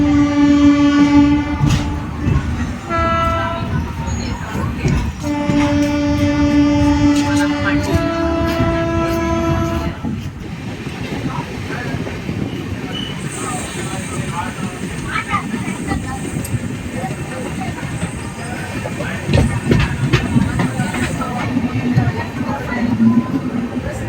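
The 20625 Chennai Central to Jodhpur Bhagat Ki Kothi Superfast Express sounds repeated long horn blasts before its coaches rumble and clatter past loudly and continuously, close by.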